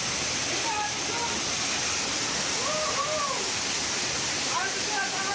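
A waterfall pouring inside a rock tunnel in central Bengkulu gives a steady, loud rushing roar that fills the whole clip, with faint voices underneath.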